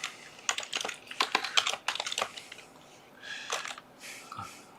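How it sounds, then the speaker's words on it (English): Fast, irregular clicking of keys typed on a Logitech wireless keyboard, close and moderately loud, with a burst of rapid keystrokes that slows into sparser taps. "I'm using a Logitech wireless keyboard, and it's delayed, and it misses notes or doubles them out."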